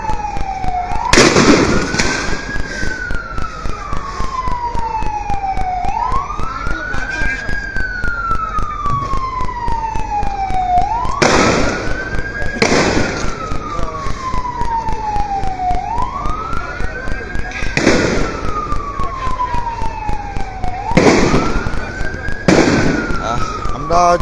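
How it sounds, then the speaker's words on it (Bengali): Sharp bangs of gunfire ring out in a street protest in a city, coming in loud clustered bursts every few seconds over a siren that wails up and down throughout. "শহরে কিন্তু আসলে যে মুহুর্মুহুর গুলির শব্দ হচ্ছে"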